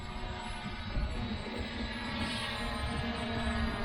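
ZLL SG906 MAX drone flying nearby, a steady faint whirring motor drone with a held tonal hum, continuous and unbroken under quiet outdoor background.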